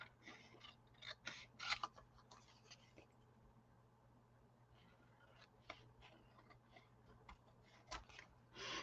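Scissors snip thin glue-covered photo paper in a quiet craft setting, a scattered run of soft, crisp cuts and small ticks close by, with brief pauses between bursts.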